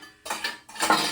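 A metal tawa pan is handled in a home kitchen while paneer tikka is being prepared, giving two quick, close metallic clanks and scrapes in a row.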